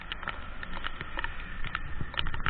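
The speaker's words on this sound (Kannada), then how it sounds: "ಮಳೆ ಮಳೆ ಮಳೆ." Rain falls during a motorbike ride near the Netravathi river at Dharmasthala, a steady patter of scattered drops ticking and tapping close by against a low background rumble.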